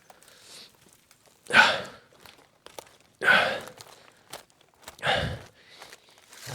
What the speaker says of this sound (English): I don't want to listen to your breathing.